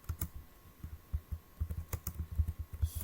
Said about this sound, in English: So we type the command sudo apt